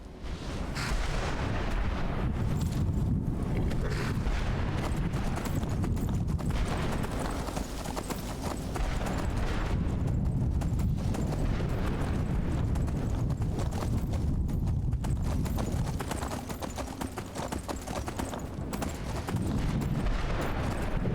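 Horse hooves clip-clop steadily through the whole stretch in the Skyrim video game with mods, loud and continuous under a dense, rumbling game soundscape that also carries booming blasts.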